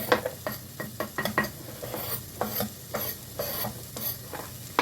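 Mushrooms and spinach sweat in a covered pan over low heat, a soft sizzle running beneath repeated sharp clinks and scrapes of a utensil and lid against the pan.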